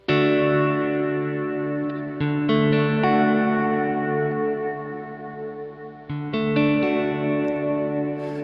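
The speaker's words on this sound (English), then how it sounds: "the reverb tail is a little warmer, so the overall sound gets to be a little warmer" A sustained, harmonically rich instrumental tone from a Kurzweil KSP8 effects unit, drenched in reverb with a warming filter giving a mellow, warm tail; notes change abruptly a few times, no voices.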